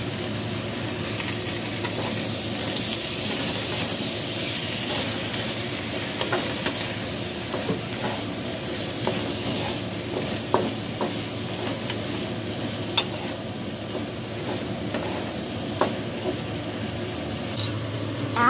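Curry paste and turmeric powder frying in a pan for beef curry, giving a steady close sizzle with scattered stirring scrapes and ticks throughout, no talking.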